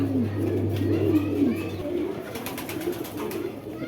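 Pigeons coo at a crowded pigeon market, with low, soft throaty calls close by under a busy background of other birds and faint market noise.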